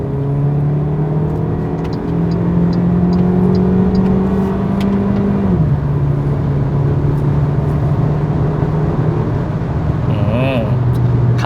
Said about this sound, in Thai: เวลาเร่งนะครับคุณก็จะได้ยินเสียงเครื่องยนต์เป็นหลังนะครับ